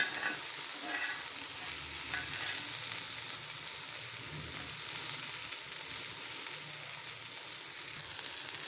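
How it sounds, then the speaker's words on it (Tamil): Fish cooked Chettinad style deep fries in a pan over a medium flame, giving a steady, close crackling sizzle that carries on without a break. "இப்போ இன்னும் கொஞ்சம் நேரம் நல்லா டீப் ஃப்ரை ஆகிற வரைக்கும் வறுக்கலாம்."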